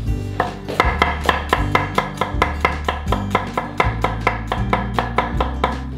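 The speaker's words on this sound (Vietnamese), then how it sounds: "bây giờ chúng ta sẽ thái vào trong này thêm cả hành tím nữa" Knife chopping dried shallots on a cutting board while preparing duck with bamboo shoots, a quick steady run of about twenty sharp, even strokes, loud and close with no talking.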